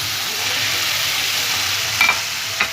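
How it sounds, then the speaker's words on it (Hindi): Ginger and garlic fry in oil until light brown, giving a steady, close sizzle throughout, with a couple of brief clinks of a spoon near the end. "अदरक लहसुन लाइट ब्राउन हो जाए"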